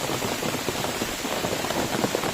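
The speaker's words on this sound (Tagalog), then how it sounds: "kitang kita naman dito sa bundok guys kung gaano kalakas yung ulan dito" Heavy rain pours steadily in the mountains as a typhoon passes, a dense, continuous hiss across the whole stretch with no voices.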